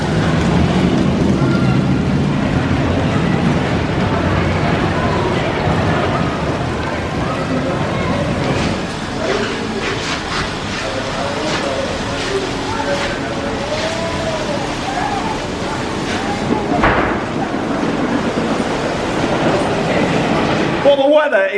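The Big Dipper wooden roller coaster train at Blackpool Pleasure Beach rumbles and clatters along its track, a continuous loud on-ride roar with rhythmic clacking and occasional sharp jolts, as riders' voices call out faintly over it.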